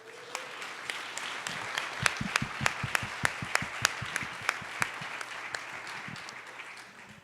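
Applause from a conference audience at a national cohousing gathering, a steady crowd of clapping with distinct louder claps standing out in the middle, moderately near and alone without talk.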